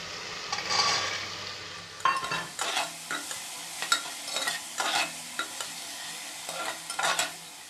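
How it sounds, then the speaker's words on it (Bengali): Salted vegetables stirred in a frying pan: repeated scraping, shuffling strokes in irregular bursts over a soft sizzle, close and fairly loud, with no voices. "লবণ দেওয়ার পর কিছুক্ষণ একটু নেড়ে নেবে।"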